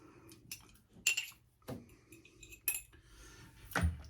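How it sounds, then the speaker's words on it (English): Hinoki and Sage shaving soap scooped into a bowl, heard as several short clinks and scrapes of metal against ceramic, spaced out and fairly close. "let's get a little scoop of Hinoki and Sage and put it into the bowl"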